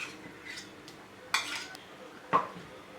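Spoon stirring pineapple kesari with ghee in a pan over a low-medium flame, two sharp metallic scrapes against the pan amid quiet clinks and light sizzling, with no talk.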